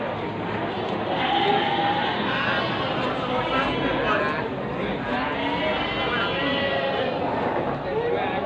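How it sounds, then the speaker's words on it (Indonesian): Goats bleating at the Muntilan animal market in Indonesia, several wavering calls rising over a dense, constant crowd murmur of people talking and market bustle. "konten dari kami yang menampilkan kambing-kambing di pasar hewan Muntilan"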